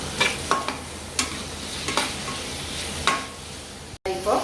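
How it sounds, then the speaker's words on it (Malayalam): Onion, tomato and garlic sautéing in a pan for a spicy brinjal curry, a soft continuous sizzle broken by repeated scraping clicks of stirring, close and moderate in level without talk. "ഇപ്പോൾ നല്ലപോലെ സവാളയും തക്കാളിയും കൂടിയിട്ട് വെളുത്തുള്ളിയും നമ്മൾ നല്ലപോലെ വഴണ്ടി കിട്ടി"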